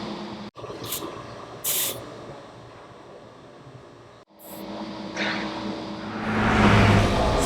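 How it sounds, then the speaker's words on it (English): An air chuck on a hose pushed onto a car tire's valve stem, giving short sharp hisses of escaping air followed by a steadier rushing inflation hiss that grows louder toward the end, alone without talk. "we'll take the air chuck attached to the hose and put it on the valve stem of the tire"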